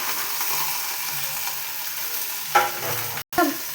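Shredded cabbage frying in a pan with aubergine and peas while being stirred: a steady sizzle with a sharp scrape near the end and a brief dropout just after, with no talking.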